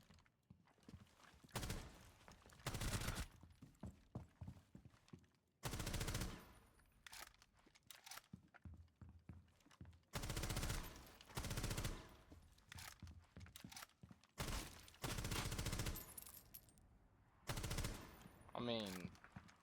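Gunfire from the video game Rainbow Six Siege, shot through narrow slits in a window from a distance: repeated loud bursts of rapid automatic fire separated by short pauses, with quieter game sounds between them.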